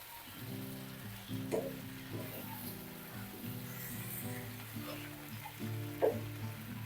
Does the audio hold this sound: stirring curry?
yes